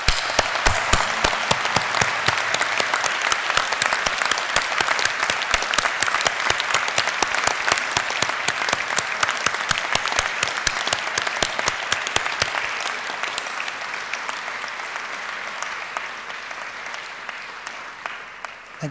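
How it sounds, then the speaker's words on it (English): Large audience at a university graduation ceremony giving a long, steady round of applause with sharp rhythmic clapping in front, gradually fading away over the final seconds. "Let's applaud them for their support."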